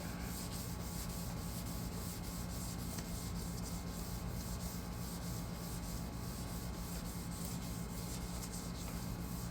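Steady wet sanding of a yellowed, foggy plastic headlight with 1000 grit sandpaper dipped in a bucket of water, a continuous close scratchy rubbing that runs unbroken at an even level throughout.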